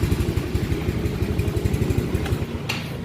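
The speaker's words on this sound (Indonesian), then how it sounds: "Langsamnya udah lumayan bagus, udah nggak mati-mati, kemudian juga nggak naik turun lagi RPM-nya." A Yamaha Mio Soul 115cc carbureted scooter engine idles steadily up close, its low rapid putter even and unbroken with no rise or fall in revs, a brief clatter near the end.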